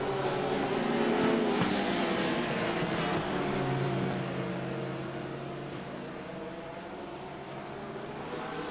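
GT3 race cars roar off the start at Hockenheim, a dense, loud blend of engines holding a steady droning pitch that swells early and then eases slightly as the pack pulls away.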